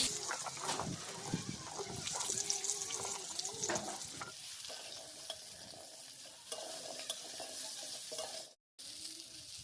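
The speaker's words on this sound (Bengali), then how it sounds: "মাছগুলোকে আলাদাভাবে রেখে এবার আলুগুলো ভেজে নেব।" Potatoes frying in oil in a pan give a soft, steady sizzle with bursts of stirring and clattering early, then quieter bubbling, briefly cut off near the end.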